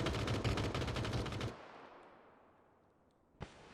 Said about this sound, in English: Delzor firing a lot of shots Captain Dankland's way